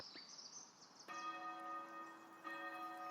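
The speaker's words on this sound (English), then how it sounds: "Let's ring the bells." Church bells ring in the Foundation village-building game, two clear resonant strikes with long humming decay, faint and distant over soft ambient bird and insect chatter.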